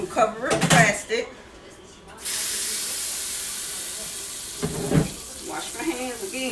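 A kitchen tap runs in a steady, close hiss for several seconds while hands are washed under it, after a baker prepares cinnamon rolls. Someone talks before the water starts and over it.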